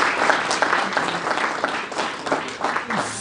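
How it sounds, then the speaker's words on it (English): A conference audience at the Project Management Institute annual conference applauds, a dense, steady wash of many hands clapping at once that holds evenly for a few seconds. "If you may give them a round of applause for being in project management."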